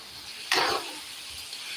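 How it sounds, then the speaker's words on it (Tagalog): Garlic, onion and ginger hit a hot pan with a sudden hissing sizzle that flares up and fades within a fraction of a second, then a low steady background hum. "ginisa muna sa ano siya, sa garlic tapos onion, tapos luya"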